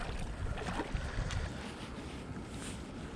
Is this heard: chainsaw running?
no